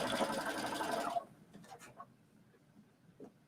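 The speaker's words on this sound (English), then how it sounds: "So you're going to get the sewing machine version." Sewing machine stitching a seam at a work table, a steady loud whirring run for about a second before it stops, followed by faint handling clicks and rustles.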